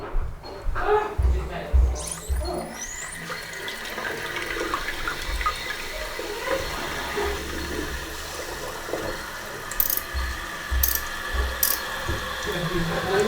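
Water rushing into a toilet cistern through a SIAMP-type filling valve after a washer replacement, a steady hiss and gurgle with clicks and knocks of handling, and someone talking intermittently over it.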